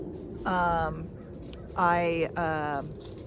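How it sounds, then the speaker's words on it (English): A dog whimpers indoors, giving three drawn-out, whiny yelping calls with short pauses between them against a quiet background. "oops, here's my doggy."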